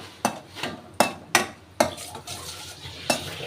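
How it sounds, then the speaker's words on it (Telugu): Semolina is stirred and fried in a pan for almond halwa. About seven sharp metallic scrapes and knocks of the spoon land at an uneven pace over a faint sizzle. "దీన్ని కొంచెం గోల్డెన్ కలర్ వచ్చే వరకు ఈ రవ్వనైతే ఫ్రై అవనివ్వాలి"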